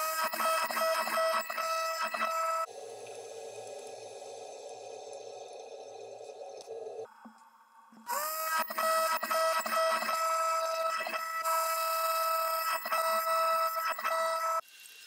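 A table saw crosscut sled cutting cedar stock to width against a stop block, a loud steady whine that drops to a lower drone midway, dips briefly, then returns at full strength.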